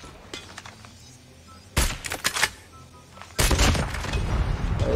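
Sniper rifle gunshots in a mobile shooter game: two sharp, loud shots a couple of seconds apart, each followed by a short metallic bolt-action clatter, the second shot ringing out into a sustained burst of noise.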